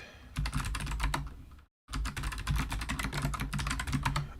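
Fast, steady typing on a computer keyboard at a terminal, close and crisp with a clatter of keystrokes, broken by a brief silent pause before the typing resumes.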